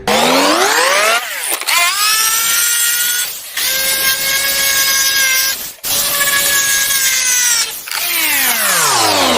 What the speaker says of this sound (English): I'm going to do this with a jigsaw.